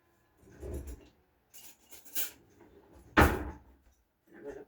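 A scrubbed cucumber is peeled in a kitchen: a few short scraping strokes in separate bursts, close and fairly soft, with brief pauses between them.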